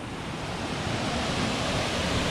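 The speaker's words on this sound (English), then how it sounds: "But here is this amazing little waterfall just off the trail." A small waterfall just off the Van Hook Falls Trail produces a steady, dense rush of falling water, loud and close, filling the scene continuously with no voices.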